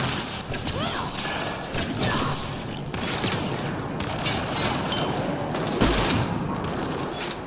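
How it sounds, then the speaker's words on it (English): Steady barrage of gunfire and impacts during a chaotic firefight in the sci-fi shooter Mass Effect: Andromeda, dense and loud throughout with overlapping shots, crashes and a heavier blast near the end. "I didn't actually mean to shoot you with my sniper rifle"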